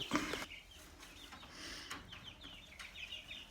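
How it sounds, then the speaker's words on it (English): Chickens cluck and chirp softly nearby in short, scattered calls, with faint rustling in the background and no talking. "I wanted to show you guys the chickens real quick"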